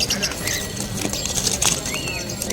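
A frightened bird flutters its wings in a cage at a busy bird market, producing short rapid flapping bursts amid background chatter and other birds' calls.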